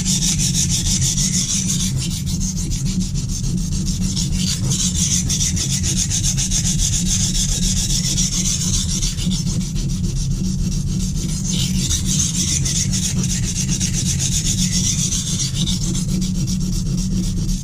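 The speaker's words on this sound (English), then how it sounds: "lay that blade flat on the stone, raise it up to that angle, and then use that motion to abrade the steel away" A chef knife is drawn across a Norton Crystolon combination oil stone in continuous, even abrasive rasping strokes, close and steady for the whole stretch with no voices.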